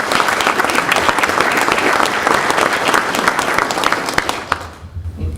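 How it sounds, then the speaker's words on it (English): A dinner crowd at a broadcast engineers' awards event gives a loud, sustained round of applause that fades and tapers off over the last second. "Let's give them a round of applause."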